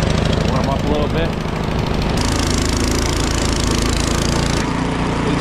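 A pull-start engine warms up outdoors during a major Wisconsin snowstorm, running as a loud, steady, rattling drone close by for the whole stretch, its pitch shifting slightly, with people talking over it.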